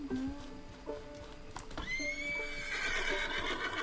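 A horse in the video game Red Dead Redemption 2 lets out a clear, fairly close whinny that rises into a long, high neigh, with hoof clip-clops underneath.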